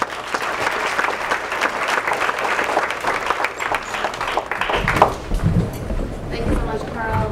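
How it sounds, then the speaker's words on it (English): Audience applause at an NAACP event in Maryland, a dense, steady round of clapping from a crowd that carries on for about five seconds before fading under a single voice beginning to speak. "Let's give her a round of applause."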